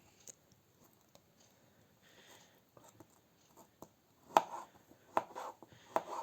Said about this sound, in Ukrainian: Ріжемо невеликими шматочками і також відправимо до зелені.